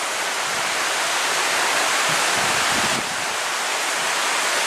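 Continuous flowing water rushing nearby, a dense even roar that dips slightly partway through, with no talk over it.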